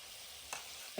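Cabbage for masale kobi sukki, seasoned with turmeric, salt and garam masala, frying on full flame in a pan: a steady soft sizzle with a couple of brief stirring scrapes near the end.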